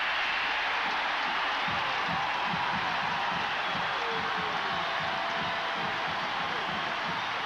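A packed crowd of 96,732 yells in Neyland Stadium during a 1990 Alabama at Tennessee college football game, a broad, steady roar that stays loud and unbroken throughout.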